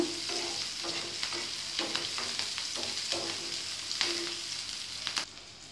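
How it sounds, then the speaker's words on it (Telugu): Onions and green chillies fry under a lid in a pan, a dense, steady sizzle with regular soft scrapes and knocks of a spoon stirring them, close by, then a lid clatter right at the end, no one speaking. "ఇవి కొంచెం లైట్గా వేగాయి ఆనియన్స్"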